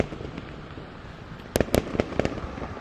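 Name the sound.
fireworks bursting at a city-wide firework show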